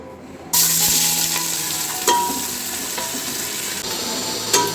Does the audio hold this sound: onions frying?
yes